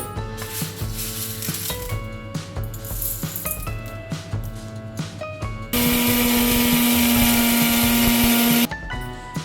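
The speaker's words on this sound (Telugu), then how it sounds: "ఇప్పుడు ఇది మిక్సీ జార్లో వేసుకుని" A kitchen mixer grinder whirs as it grinds roasted, cooled toor dal into a fine powder, its motor pitch shifting in short pulses before settling into one loud, steady whine that cuts off abruptly.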